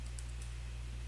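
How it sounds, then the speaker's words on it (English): Soft keystrokes tap on a computer keyboard while a document is being filled in, a few quick, faint clicks over a steady low hum. "So I'm going to type in"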